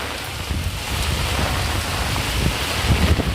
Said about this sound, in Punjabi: ਹੁਣ ਦੇਖੋ ਮੀਂਹ ਦੇ ਨਜ਼ਾਰੇ ਦੇਖੋ ਆਲਾ ਦੁਆਲਾ